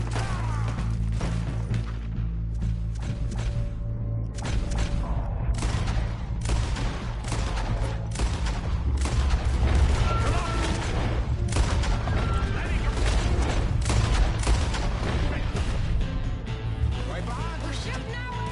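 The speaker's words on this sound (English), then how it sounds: "We're shooting our way out of here" A shootout in Red Dead Redemption 2 at Clemens Point: rapid, dense gunfire with sharp cracks and overlapping volleys continuing without a break, loud and close, with voices shouting over the shots.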